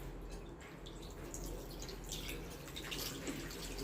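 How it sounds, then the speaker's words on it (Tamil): Hands are washed under running water while making baby soap, a steady close splashing and trickling that continues throughout without pause. "கையை நல்லா வாஷ் பண்ணிக்கலாம்."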